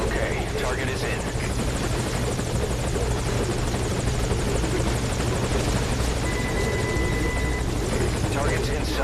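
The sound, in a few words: helicopter hovering in Metal Gear Solid Ground Zeroes video game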